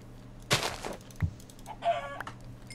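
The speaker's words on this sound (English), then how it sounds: "There's some more chickens over here." Chickens in the video game Minecraft give a few short clucks and squawks at moderate distance, spaced apart over a quiet in-game background with no talking.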